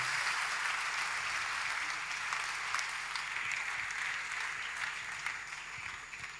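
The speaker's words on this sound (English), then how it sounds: "please give a big applause to 3 finalists" Steady, full applause from a large audience at the world's best sommelier competition in Mendoza, Argentina, cheering three finalists; dense clapping that holds evenly and eases off slightly at the end.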